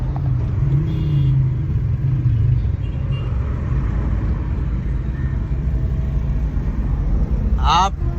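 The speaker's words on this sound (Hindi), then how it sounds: "ट्रैफिक जब निकलो, ट्रैफिक जब निकलो, ट्रैफिक।" Urban road traffic in Karachi: a steady, dense low rumble of cars and motorbikes with engines idling and revving, continuous throughout, with a brief sharper mechanical rasp near the end; a voice speaks faintly early on.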